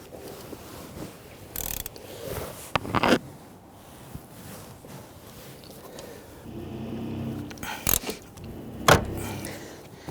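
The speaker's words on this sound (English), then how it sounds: "Let's slide the seat forward and tighten down the rear ones." A ratchet clicks in short bursts while tightening rear seat bolts inside a Nissan Quest minivan, with a few louder knocks and seat-sliding clunks between quieter pauses.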